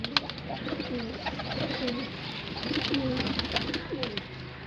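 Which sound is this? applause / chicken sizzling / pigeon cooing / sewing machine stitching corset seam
pigeon cooing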